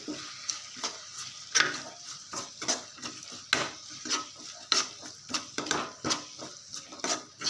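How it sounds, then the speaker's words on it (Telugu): Chili, coriander powder, garam masala and other spices being stirred into a drumstick curry: a quick run of close, rhythmic spoon clinks and scrapes against the pot, with no talking. "ఇప్పుడు ఇవన్నీ కలిపి వేసేస్తున్నాం వేసుకొని బాగా కలిపేసుకోవాలి"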